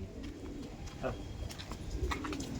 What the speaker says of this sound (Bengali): এই দেখুন, এক জোড়া কালসিরা পায়রা